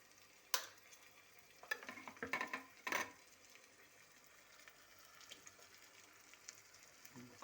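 Eggs dropped into a hot pan for an egg fry, a few quiet cracks and sizzling bursts with stirring scrapes, faint and close, then fading back to a low simmer.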